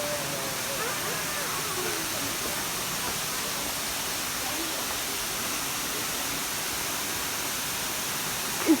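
A waterfall rushes with a dense, steady hiss like heavy rain, loud and unbroken throughout.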